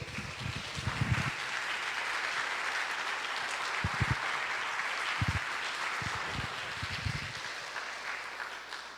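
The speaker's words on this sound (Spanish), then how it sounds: "Dale un aplauso a nuestro Dios." A church congregation at a Sunday service applauds, producing steady, moderately distant clapping with scattered louder bursts and low thumps, heard at a modest level.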